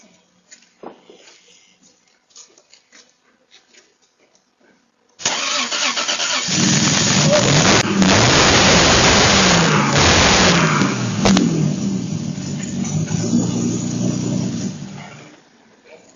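After a few quiet seconds with faint sounds, a car engine cranks and catches, then runs steadily at a rough idle before cutting off.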